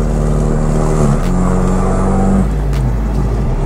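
A turbocharged 2.0 MK4 Jetta running close up, its engine droning steadily with rising and falling tones as it revs, then easing off with a brief fluttering release near the end; no one talks.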